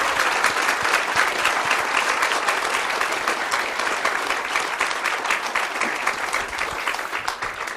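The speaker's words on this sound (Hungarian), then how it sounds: "again a round of applause for their wonderful service here at our temple in Budapest" A round of applause for temple volunteers at a Budapest wedding ceremony, a steady, dense clapping from a gathered crowd that holds at an even level throughout without talk.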